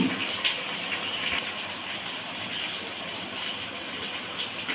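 Water poured into a pot of mutton biryani with tomatoes and salt, a steady broadband gushing rush running unbroken and fairly close throughout, with no talk.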